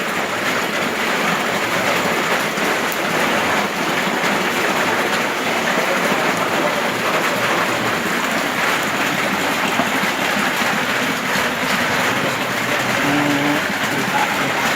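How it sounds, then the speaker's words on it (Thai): A constant broadband hiss of rain pours down without pause, loud and even, with a low rumble beneath and no talking. "ฝนตกน้ำไหลแง่ๆนะครับ"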